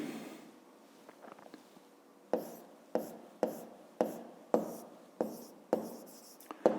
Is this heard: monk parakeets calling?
no